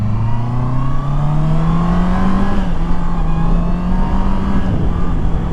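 A 2019 Honda CBR650R motorcycle accelerates hard and close. Its engine note climbs steadily, then drops briefly at each of two quick gear shifts before rising again.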